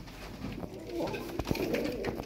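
Pigeons held in a box give soft, low cooing calls that repeat in short rounds, close by and fairly quiet, over faint background noise.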